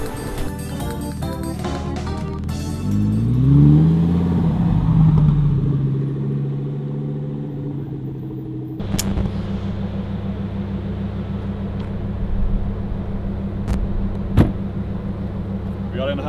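A car starting off and driving away in Hamburg, engine rumble building and shifting as it pulls away, then a steady low road drone inside the cabin with a couple of sharp clicks.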